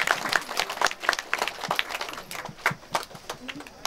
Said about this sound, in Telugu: డాక్టర్ రవికుమార్ గారికి చప్పట్లు కొట్టా